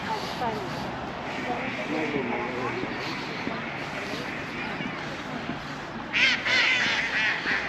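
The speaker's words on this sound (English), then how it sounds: "I'll be able to hear the ducks." Ducks at the harbour of Port d'Andratx, Mallorca, quack in scattered nasal calls, with a louder cluster near the end, over outdoor waterside ambience and intermittent talking.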